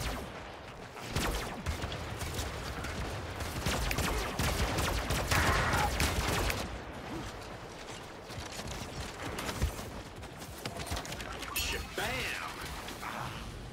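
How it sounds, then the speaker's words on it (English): Scattered gunshots and bullets whizzing past in an Old West-style map of the online game Eternal, a busy, moderately loud stretch of shots and clatter with someone talking over it. "Oh, I hear bullets flying by my head, dude."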